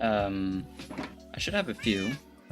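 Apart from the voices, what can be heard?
pet cat meowing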